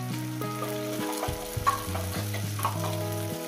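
Water from ground spice paste hits a hot pan of fried cauliflower for a rui fish curry, giving a steady close sizzle with stirring scrapes and a few brief clinks, alongside a sustained musical tone in the background.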